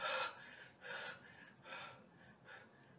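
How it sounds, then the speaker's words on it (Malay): An exhausted chicken in a narrated story pants in four short, breathy gasps at a quick, uneven rhythm, close and fairly quiet with no talk over it. "Ayam ketiga masih tercungap-cungap."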